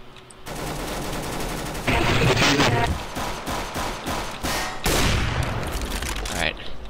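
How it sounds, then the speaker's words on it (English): Pistol gunfire in the video game CS:GO comes as rapid bursts of shots over dense game noise, loud and close, with some voices in the background. "The guy was shooting with a pistol."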